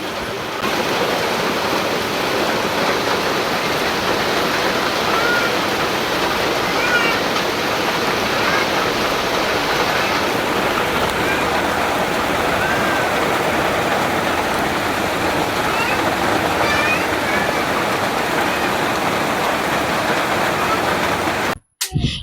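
Heavy rain driven by strong wind pours down in a loud, unbroken roar that holds steady for about twenty seconds before cutting off abruptly.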